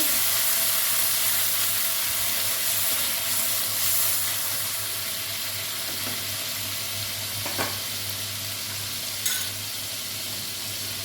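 A green chili and tomato paste sizzles steadily in hot oil for a fish curry, a continuous close hiss with occasional scraping stirs and no voices.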